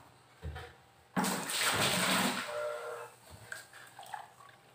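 Hot boiled water from a Dayak herbal steam-bath brew poured into a bucket: a brief knock, then a loud rushing splash for about two seconds that tapers into trickles and drips, close by.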